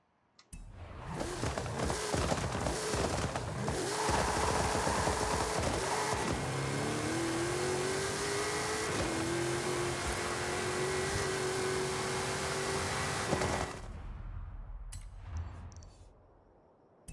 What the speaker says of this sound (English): so people can have a better chance to hear this engine